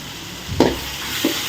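Curry ingredients sautéing in a pan, a steady soft sizzle broken by two brief, close stirring scrapes a little over half a second apart.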